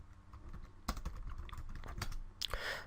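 Quick, uneven keystrokes clatter on a computer keyboard while a command is entered in a terminal, close and fairly quiet, in short bursts with a few louder taps, no talking.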